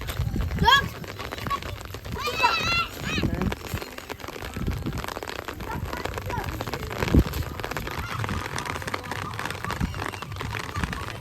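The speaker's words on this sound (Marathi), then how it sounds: "पाऊस पडते" Rain patters steadily on a farm while children shout and squeal nearby, with occasional thumps and footsteps on a wet surface.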